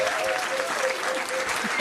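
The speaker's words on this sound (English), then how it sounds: "Give them a round of applause." Pub quiz crowd applauding a team, a steady wash of clapping mixed with murmuring voices and a brief tone in the background.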